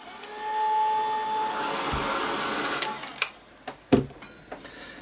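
A heat tool blasts hot air to dry paint, a steady loud whooshing roar for a couple of seconds that then cuts off, followed by several clicks and clunks.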